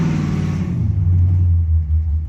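A cammed LS3 V8 with a straight-pipe exhaust idles very loud and close, a deep, lumpy, uneven rumble that swells slightly as it is blipped, with no voices over it.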